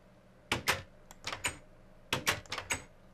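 A door in Minecraft modded with IndustrialCraft opens and shuts as two quick bursts of clattering, clicky knocks about 1.5 seconds apart, close and crisp against a quiet background.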